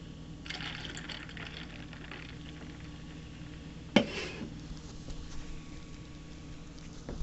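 Generic diet soda pouring into a glass of Captain Morgan 100 proof rum, a steady fizzy liquid rush with one sharp clink near the middle, moderately quiet and close.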